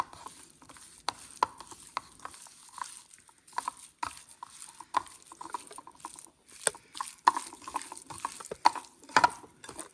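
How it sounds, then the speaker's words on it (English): Hands squish and slap through seasoned raw chicken coated in Texas Pete hot sauce, producing wet, irregular patter and smacks, close up with no talking. "Mix that all up."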